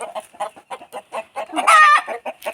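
Country hens and chicks being bathed cluck in short, repeated bursts, with one louder, sustained call midway; the calls sound close and fairly clear.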